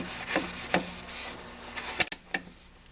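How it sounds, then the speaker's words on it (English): Rag soaked in gasoline wiping the friction disc and wheel of a John Deere 5/20 snowblower, giving quiet scattered rubbing and scraping strokes with a few sharper knocks, close by and with no voices. "I'm going to clean up the friction disc and the friction wheel of any oil residue that's on there"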